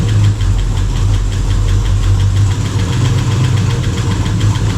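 A Range Rover Classic engine with a failing fuel pump runs noisily at idle, close and loud, with a steady low drone and a rapid rhythmic knocking or ticking layered over it throughout.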